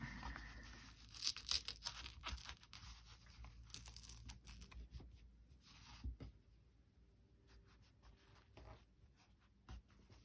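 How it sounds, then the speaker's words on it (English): Glued paper being pulled away from a file folder for a soft journal cover, quiet close ripping and crinkling in short bursts, with light rustles and taps in between. "I'm having to kind of pull it away from the file folder."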